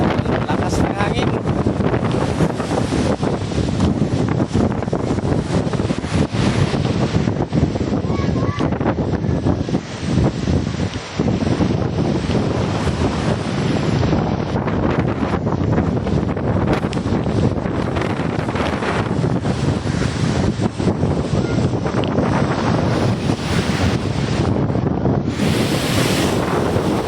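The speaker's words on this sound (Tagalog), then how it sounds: "Lakas ng hangin." Heavy surf and strong wind pound the coast before bad weather, loud crashing waves mixed with constant gusty roaring across the microphone, unbroken from start to finish.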